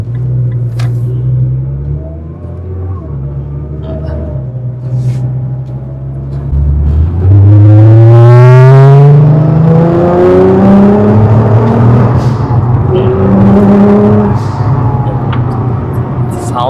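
A 2012 Nissan GT-R R35 drives past from idle rumble into a rising, loud engine rev with climbing pitch, then settles back into a steady drone; a voice briefly speaks near the start.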